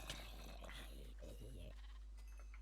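A Minecraft sheep bleats, a short wavering baa near the start followed by a second shaky bleat, fairly close and clear over a steady low hum, with no talking.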